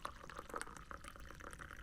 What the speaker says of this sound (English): So I'm going to pour out my tea.